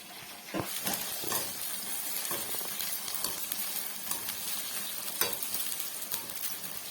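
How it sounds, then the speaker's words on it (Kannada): Soya chunks fry and sizzle steadily in a hot pan, a loud, continuous hiss broken by repeated scraping stirs, with no voices over it. "ನೋಡಿ ಚೆನ್ನಾಗಿ ಫ್ರೈ ಮಾಡ್ಕೊಳ್ಳಿ."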